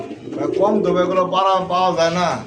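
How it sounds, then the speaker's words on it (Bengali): A male and female pigeon pair cooing close by, soft repeated throaty coos in a steady murmuring rhythm, with a voice talking over them throughout. "সামনে যেটা হচ্ছে মাদি কবুতর ডানে যে কবুতরটা হচ্ছে নর কবুতর"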